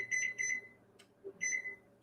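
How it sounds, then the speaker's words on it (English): A kitchen timer in a home kitchen with the oven running gives a few close, thin electronic beeps in two short bursts separated by a pause, fairly faint over a low steady hum. "I'm going to turn on this timer"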